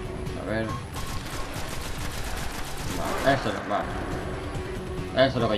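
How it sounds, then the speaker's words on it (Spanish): Rapid bursts of automatic gunfire sound on the Moon in the video game Destiny on PS3, a quick rattling string of shots mixed under someone talking in Spanish. "Eso es lo que yo quiero, muchos disparos seguidos."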